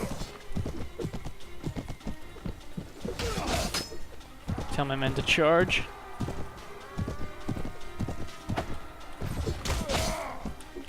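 Horse galloping in the Clash of Kings mod video game, fast repeated hoofbeats throughout with a clear neigh midway and a clinking sound, while a voice speaks briefly over the hooves.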